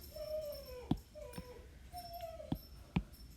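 A dog whines and whimpers in the background in rising, drawn-out cries, with a few sharp knocks and marking-pen squeaks nearby in a quiet room.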